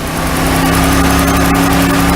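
A warm 1991 Oldsmobile Cutlass Ciera engine idles steadily up close, a continuous even hum with a faint mechanical buzz and no talking.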